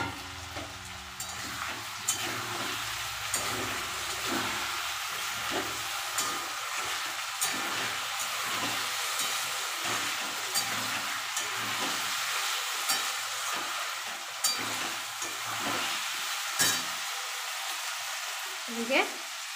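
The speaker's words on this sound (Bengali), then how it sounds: "এদিকে আলুটা ভাজা হচ্ছে।" Potatoes fry in a pan with a steady, close sizzle that runs throughout, with occasional stirring scrapes rising above the crackle and no talk.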